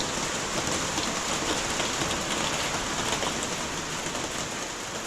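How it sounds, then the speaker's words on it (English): Torrential rain in Costa Rica pours down as a dense, loud, steady roar of drops on surfaces, with no talking. "And I mean torrential rain."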